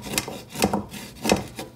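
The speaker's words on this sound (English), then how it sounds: "I'm just going to lightly scrape the bottom so we can make sure we get all that nice color up" Scraping the bottom of a pot of Haitian conch stew on a high stove, three slow rasping strokes of a utensil across the pot, close and moderately loud.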